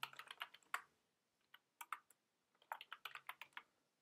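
Keys clack on a computer keyboard while a product name is entered into inventory software, in quick close bursts separated by short pauses.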